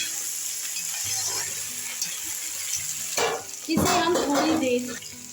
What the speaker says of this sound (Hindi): अब हम इसमें आलू जो हमने काट कर रखे थे डाल देंगे। और इसे अच्छे से चला देंगे।